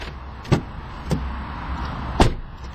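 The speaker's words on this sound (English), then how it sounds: "to unlock, all you have to do is touch the back of the door handle, in which there's a small touchpad" Door locks of a 2012 Ford Explorer Limited release as the handle touchpad is touched: three sharp, close mechanical clunks spread over a few seconds against a low, steady outdoor background.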